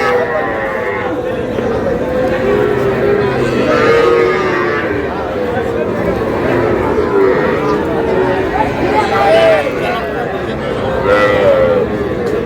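Young bull calves and other cattle lowing at a busy outdoor livestock market, several drawn-out moos rising over the steady loud din of a crowd of people talking and bargaining nearby.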